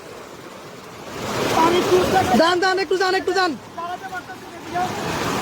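Fast floodwater surges past in Burichang, Cumilla, a loud continuous roaring rush close to the microphone, with wind buffeting and a man calling out over it.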